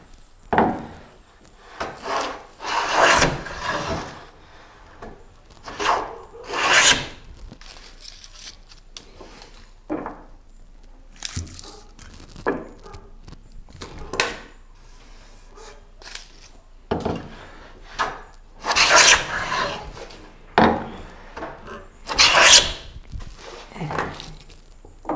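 Jointer plane (varlope) dressing the face of a wooden board by hand, in repeated rasping strokes with short gaps between passes, close and fairly loud.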